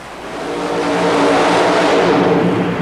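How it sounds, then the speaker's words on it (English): A nitrous-fed 588-cubic-inch big block Chevy mud racer with a fiberglass body roars loud and close at launch, the engine note swelling and holding steady as it pulls away at a super modified mud racing event. "588 cubic inches of nitrous oxide-fed big block Chevy underneath the fiberglass body"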